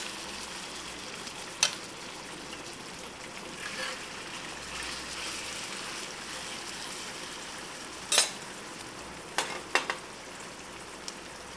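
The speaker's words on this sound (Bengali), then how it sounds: "এবার চুলার আঁচটাকে মিডিয়াম টু হাই হিটের মাঝামাঝি রেখে এই কলিজাটাকে আমি এখানে ভেজে নিব।" Beef liver fries in hot soybean oil over medium-high heat, a steady, even sizzle broken by a few sharp pops and utensil clicks, with no talking.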